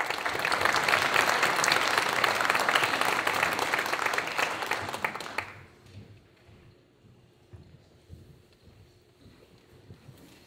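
An audience bursts into loud, dense applause for the Moses Lake High School Wind Ensemble at a City Hall performance, sustained for about five seconds before cutting off abruptly to a quiet room with faint shuffles.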